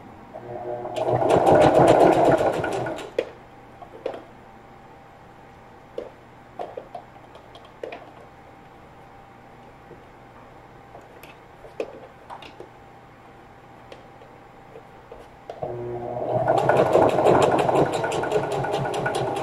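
A sewing machine stitches a lunch tote in two loud, fast mechanical runs at the start and end, with quiet ticks and fabric handling between them and no talking.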